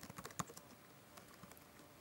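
Rapid keystrokes on a computer keyboard while typing a title, a dense burst of crisp clicks at first that thins out into scattered, quieter taps.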